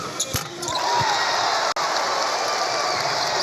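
A basketball arena crowd at a college game roars and cheers nonstop. Sneaker squeaks and a few ball bounces come through early, and the noise holds loud throughout.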